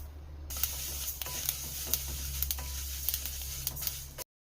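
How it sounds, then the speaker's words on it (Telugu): Sesame seeds roasting in a pan for immunity-boosting laddu, a steady dry sizzle with scattered small pops and crackles running close and continuous for several seconds before cutting off, with no speech. "ఇప్పుడు మనము బాండీలోకి నువ్వులు వేసుకొని వేయించుకుందాం"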